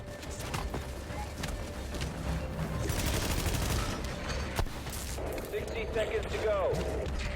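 Gunfire in The Division crackles in repeated sharp bursts amid a cluttered game soundscape, with a voice talking over parts of it.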